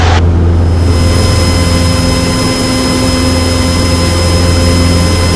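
A Cessna 150 light aircraft engine runs at full takeoff power, a loud, steady droning roar with a constant propeller hum that holds unbroken throughout.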